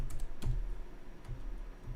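Fingers tap quickly on a small computer keyboard, a close run of light plastic key clicks with a few brief pauses and no voices.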